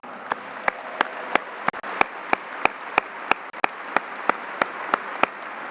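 An audience claps at a police academy graduation in a steady run of sharp, evenly spaced claps, loud and close, with no other sound around them.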